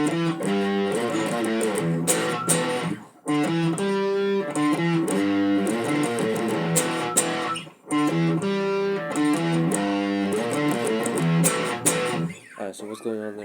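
A distorted electric guitar plays the second part of the intro to a rock song, a loud, continuous riff of sustained chords and fast note runs with two brief breaks, close and alone.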